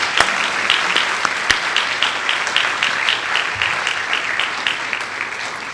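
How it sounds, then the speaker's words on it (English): Audience applause at an arts awards event, a steady wash of clapping from a sizable crowd with a few sharp nearby claps standing out, continuing evenly throughout. "How about a big round of applause for our friends at Wilmington Trust?"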